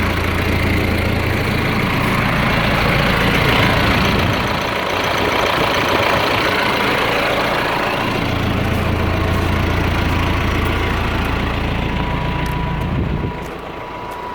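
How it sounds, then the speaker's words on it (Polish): A 2011 Claas Arion 410 tractor idles close by with a steady low diesel rumble and a knocking undertone, its pitch dipping briefly partway through before settling, then easing off near the end. "Bardzo ładnie i świetnie działający ciągnik"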